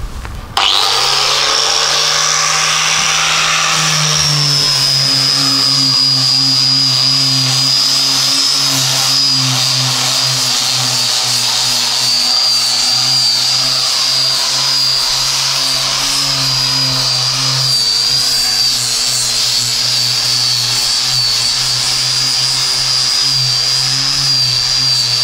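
A power sander works over wooden boards being smoothed for a homemade bed and nightstand, a steady loud whine and hum running continuously for the whole stretch with no talk.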